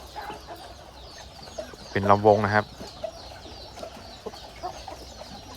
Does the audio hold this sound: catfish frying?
no